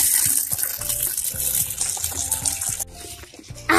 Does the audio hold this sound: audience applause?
no